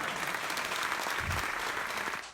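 Steady applause from a studio audience in a café-theatre comedy show setting, a continuous dense wash of clapping lasting a couple of seconds before tapering off at the end.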